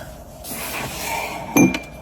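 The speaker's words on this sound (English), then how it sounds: "whoops, knocking my water over here." A water cup knocked over on a painting table, a brief hard clink and clatter with a splash, heard up close after a quiet stretch.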